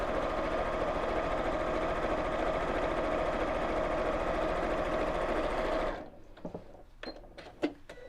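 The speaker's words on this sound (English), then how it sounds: "And let's just sew down there." A sewing machine stitches fabric in one continuous, fast, even whirr lasting about six seconds, then stops, leaving a few scattered clicks and small handling sounds.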